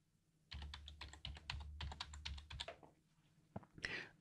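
Rapid keystrokes clatter on a computer keyboard as a passphrase is typed, a close run of even taps lasting about two seconds, then a pause and a short final flurry.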